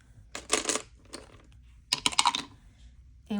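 Dice clatter during a board game, two brief rattling bursts about a second apart with a quieter tumble between, close by and without talk.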